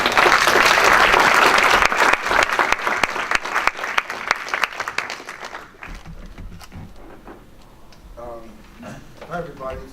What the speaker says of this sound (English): let's give a round of applause for Eric.